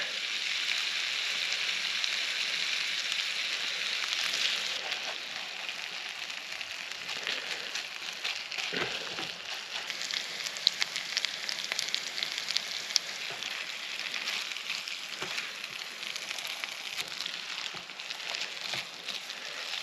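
Perogies fry in a pan over a campfire on a winter canoe trip, a soft, steady crackling sizzle with scattered pops and ticks, faint and fairly close, without speech.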